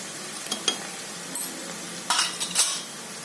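Onions frying in a pan as ground turmeric goes in, a soft steady sizzle broken by a few sharp spoon scrapes and clinks against the pan.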